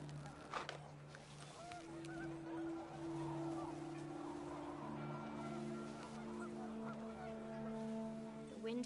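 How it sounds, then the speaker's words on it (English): Panicked geese honk in a windy outdoor setting, a steady chorus of tonal calls rising and falling over gusty rumble for several seconds, with occasional sharper cries standing out. "panicked geese appeared and quickly went"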